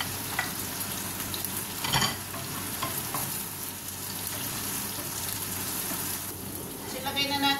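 Onions sizzle and fry steadily in hot oil while a spoon stirs and scrapes the pan, with a brief louder stir burst partway through, as powder is added for an ampalaya dish; no talk over it.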